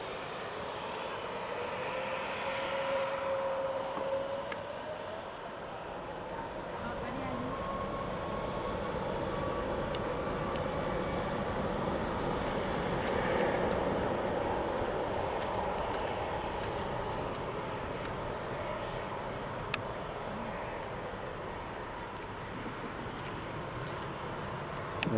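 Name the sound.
TUI passenger airliner departing Newcastle International Airport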